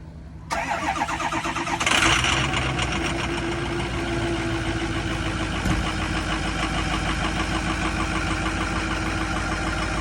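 A 2004 Ford F-350 with a 6.0L diesel and failing injectors cranks, catches and settles into a loud, rough, clattering idle that runs steadily at close range, with no voices.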